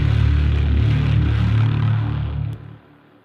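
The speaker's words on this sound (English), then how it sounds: "Then the Apocalypse patch is from the Reason synthesizer" The Apocalypse patch from the Reason synthesizer sounds as a thick, loud sustained synth texture, steady for over two seconds before dropping off sharply into a quieter tail.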